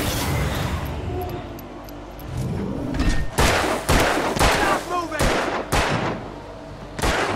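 Gunshots in the video game Alan Wake ring out as a series of loud, separate blasts at irregular spacing, each a sharp broadband crack over dense background game noise.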